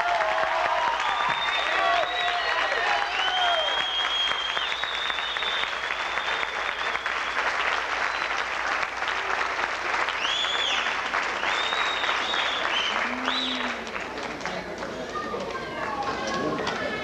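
An audience at a graduation ceremony gives sustained applause, a dense and steady wash of clapping with some cheering and whistles mixed in.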